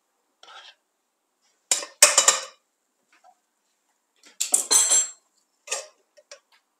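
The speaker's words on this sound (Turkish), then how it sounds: "tenceremi göstereceğim ve ocağıma koyacağım" A cooking pot is handled and set down on a kitchen stove, giving a few sharp metallic clanks and taps in short clusters with quiet gaps between, close by and with no talking.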